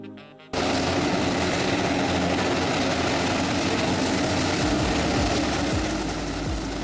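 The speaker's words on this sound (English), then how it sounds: "Grumman S-2 Tracker, originally a submarine hunting aircraft, later converted for firefighting." A Grumman S-2 Tracker firefighting aircraft, a former submarine hunter, flying under twin propeller power: a loud, steady roar that cuts in abruptly after a brief moment and holds close and heavy, with no voices.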